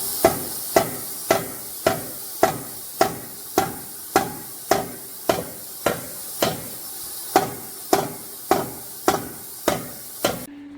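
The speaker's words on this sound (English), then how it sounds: "We're going to use a fucking big hammer." Steady, evenly spaced heavy hammer blows, about two per second, ringing out loud and close with no talking.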